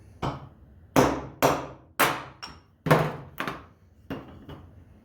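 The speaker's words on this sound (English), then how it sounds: "I found a 3/8 socket that or extension, and I'm going to drive the bearing out" Metal socket extension hammered against a bearing in a Ryobi 480e riding mower deck motor: seven or eight sharp, loud blows in an uneven rhythm, each ringing briefly before the next strike.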